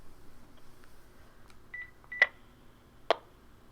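A phone keypad gives a few short beeps while the handset is being switched off: a sustained tone followed by two sharp, clicky key sounds over a quiet background.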